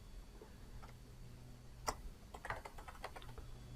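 Quiet, close typing on a computer keyboard: a short run of light key clicks, sparse at first and then quicker, over a low steady background hum.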